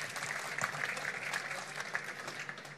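Audience applause at a Multimodaal 2022 conference interview, a soft, steady patter of clapping heard at a distance throughout.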